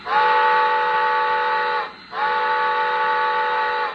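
A model steam locomotive's F2 whistle sounds two long, steady chime-like blasts separated by a brief pause, clear and close.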